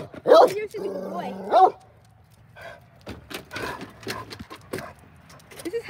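Dogs barking in a home, a couple of sharp bursts near the start, then quieter scuffling and movement while a person talks nearby.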